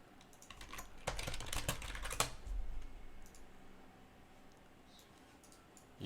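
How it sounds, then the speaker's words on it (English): Fast, dense keystrokes rattle on a computer keyboard as keys are mashed in a quick burst, then thin out to occasional faint clicks over a quiet background hiss. "You just mash a whole bunch of keys."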